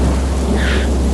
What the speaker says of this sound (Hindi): तूफानी रात का अंधेरा शहर को अपनी चपेट में ले रहा है, बिजली की कड़क के बीच